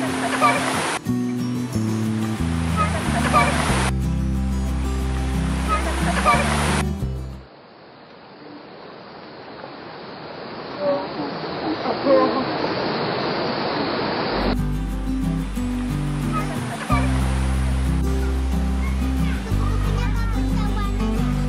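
Rushing water from a waterfall at Curug Panjang near a family highland campsite, a steady broadband roar that stands alone in the middle stretch between louder sections of background music.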